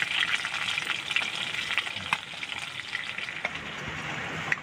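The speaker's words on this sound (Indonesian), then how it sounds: "Kita goreng sampai mengering ya, biar kriuk-kriuk." Continuous crackling sizzle of small wader fish frying crisp in hot oil, close and steady throughout, with occasional faint clinks and no voices.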